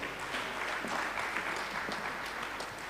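A health forum crowd applauding steadily as a speaker takes the stage, dense clapping that holds an even level throughout.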